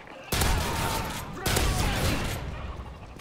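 Two loud pistol gunshots in Call of Duty: Modern Warfare 3 Survival mode, about a second apart, each a sharp crack followed by a rumbling decay.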